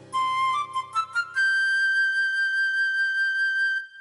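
Flute in a children's instrument-guessing song plays a few quick notes, then holds one long clear tone that fades out, solo with no voices.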